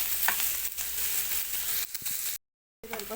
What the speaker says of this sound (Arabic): هنفضل نشوح فيه كده لغاية ما ياخد معانا لون دهبي غامق